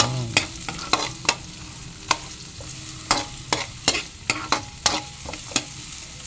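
Onions sautéing in a pan for salmon sinigang, a low steady sizzle broken by a dozen sharp spatula taps and scrapes against the pan, close and without talk.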